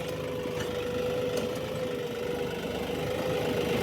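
A John Deere 5 series Gear Pro tractor engine runs steadily while ploughing a field, a close, continuous low throbbing drone with a faint whine on top and no voices.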